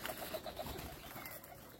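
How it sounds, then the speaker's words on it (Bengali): A young pigeon grown up, giving a brief soft coo in a short quick run of notes, close and faint. "সেই ছোট বাবু কবুতরটা বড় হয়ে গেছে মাশাআল্লাহ"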